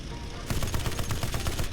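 Rapid aircraft machine-gun bursts in the flight combat game Aces of Thunder, a fast chattering stream of shots that starts abruptly and keeps hammering steadily at close range.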